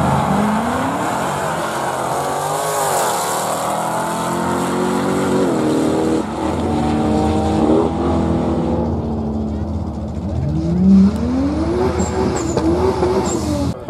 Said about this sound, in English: with Keith Messini from Lakeside in the Charger Hellcat